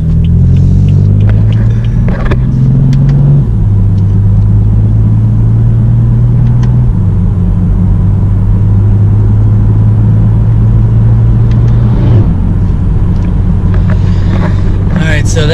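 A 425 hp BMW M3 cruises with a deep, smooth engine drone inside the cabin, loud and close. Gear changes step the pitch down as it drives, with faint road and wind noise underneath.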